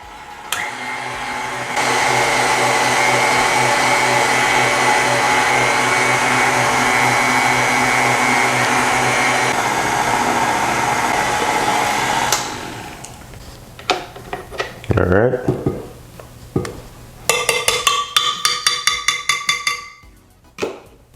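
An electric mixer whips cream with pureed avocado for homemade ice cream, giving a loud, steady motor whir for about ten seconds before it cuts off, followed by scattered clinks and scraping in the bowl.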